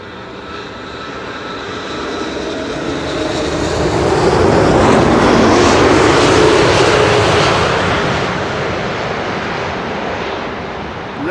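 An airliner lands on Schiphol's Kaagbaan runway 06. Its engines roar loud and close, swelling to a peak and then fading into a long, steady rumble, with no voices.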